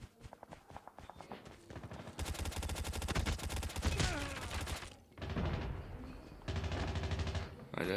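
Automatic gunfire from Call of Duty Mobile crackles in rapid bursts over a few seconds, dense and steady, with short gaps between volleys and faint background game sounds.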